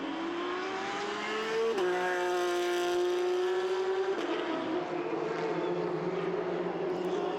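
Mick Murrens's MM Racing Porsche and other race cars in a Belcar Series round at the American Festival NASCAR Finals give a loud, continuous engine drone whose pitch drops sharply twice, as at gear changes.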